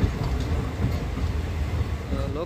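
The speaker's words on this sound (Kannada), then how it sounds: "ಲೋಕೋ ರಿವರ್ಸಲ್ ಮಾಡ್ತಾ ಇದ್ದಾರೆ" A train locomotive being reversed at Sindhanur railway station on the inaugural day of new trains rumbles steadily with low rolling rail noise, while people talk nearby.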